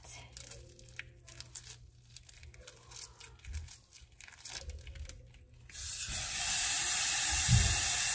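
Ground meat for tacos browning in a hot pan, a steady loud sizzle and crackle that rises sharply partway through after quieter rustling and kitchen handling.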